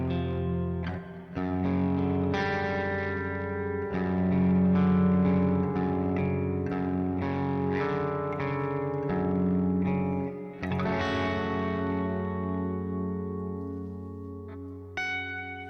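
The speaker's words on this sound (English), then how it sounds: "Give you some room sound." Guitar notes and chords played through a room reverb plugin, each strum ringing out and lingering in a spacious ambience, loud and sustained.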